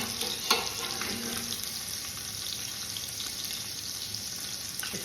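Andouille sausage frying in oil in a pan for New Orleans red beans and rice, a steady moderate sizzle with a sharp clink early on and a few light utensil taps.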